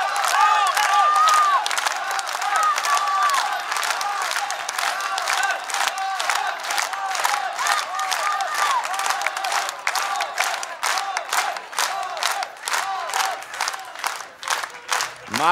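A concert audience claps in a dense, steady applause with some cheering, close and continuous, tapering slightly toward the end.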